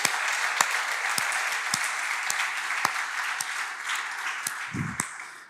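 A church congregation claps for the Lord during a sermon, a sustained wash of applause from many people with a few sharper individual claps standing out, fairly distant and steady, tapering toward the end.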